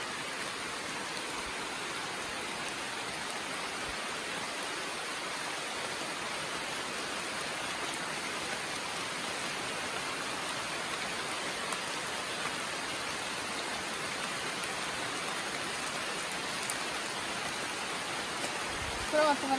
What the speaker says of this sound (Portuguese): até porque tá chovendo, vai ficar ruim